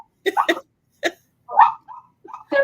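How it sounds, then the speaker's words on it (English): Several short barks from dogs reacting to a cat indoors, coming in uneven bursts with pauses between them, fairly close and moderately loud. "barking at the cat"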